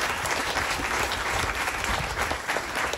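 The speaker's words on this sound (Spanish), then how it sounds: "Vamos a aplaudirle nuevamente a Raquel" A crowd at a patron saint festival for the Virgin of Fatima in Las Gavias claps for Raquel, a dense, steady round of applause heard alone at close range.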